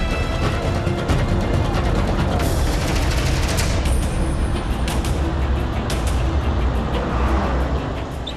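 A car is driven fast, its engine roaring loud and steady throughout with no break and no voices.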